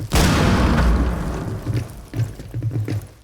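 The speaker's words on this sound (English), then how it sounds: "Try some grenades out." A heavy grenade blast booms loud and close at the start in Rainbow Six Siege, then decays into rumbling debris, followed by a few smaller thumps.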